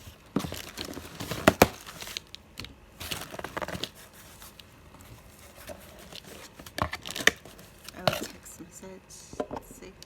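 Close-up snipping and cutting into cardboard, mixed with crinkling and tearing of packaging in irregular bursts.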